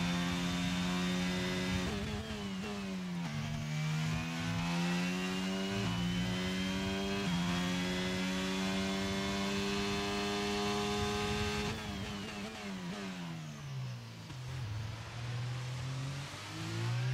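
A Formula 1 car engine in the F1 22 video game screams at high revs, dropping in pitch with each quick upshift and then climbing again, a loud continuous whine without talk.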